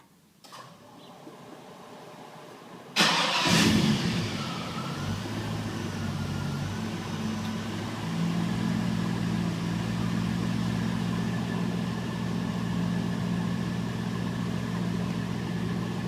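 An LS-swapped 1968 Chevrolet C10 fires up by remote start after a brief crank, catching abruptly and settling into a close, steady, rumbling idle that holds loud and even.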